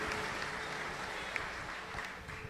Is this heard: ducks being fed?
no